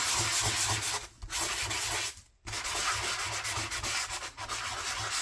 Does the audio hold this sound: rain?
no